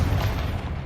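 A Confringo fire blast spell explodes in Hogwarts Legacy, a short, dense, low boom that rumbles loudly for under a second.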